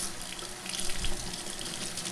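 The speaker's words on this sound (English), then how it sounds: "Next, you're going to want to rinse the carbon with some cold water." Cold tap water pours steadily over activated carbon filter media for a pet water fountain, a constant close hiss of running water rinsing through the granules, with no voices.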